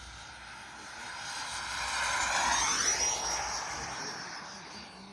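An F-18 style 90mm electric ducted-fan FPV model jet on an 8s battery makes a fast low pass, its whine rising as it approaches and sweeping down in pitch with a Doppler drop as it passes and recedes.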